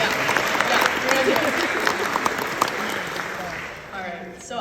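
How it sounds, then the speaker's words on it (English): An audience applauds at a ceremony with a loud, steady wash of many hands clapping close by. The clapping keeps up for several seconds and fades slightly toward the end. "A little round of applause here."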